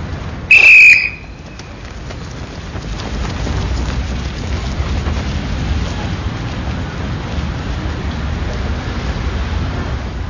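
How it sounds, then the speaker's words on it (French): A sharp, piercing whistle blast from a French Foreign Legion instructor signals the end of a timed running test, standing out briefly at the start before steady rain-like background noise takes over for the rest. "Deuxième coup de sifflet."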